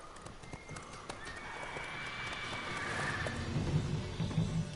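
Roach, the horse in The Witcher 3, neighs while hooves clip-clop steadily, the trotting growing louder toward the end over a game soundscape.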